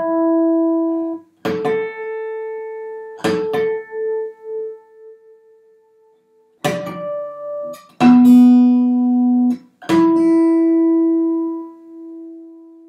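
Acoustic guitar strings are plucked one at a time, including ringing harmonics, to check tuning; each clear note sustains and fades before the next, alone in a quiet room with no talk.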